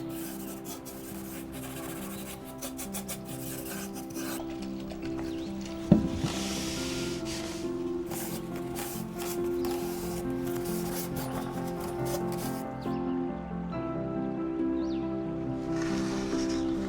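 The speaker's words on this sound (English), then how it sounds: "The rest I can just get with the sander." A power sander works over a wooden dresser with a steady, continuous whirring hum and gritty scraping, close and unbroken, with one sharp knock partway through.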